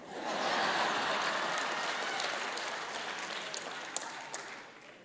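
A comedy show audience at Jenifer Lewis's stand-up set bursts into full applause that swells quickly, holds, then slowly thins, with a few louder claps near the end.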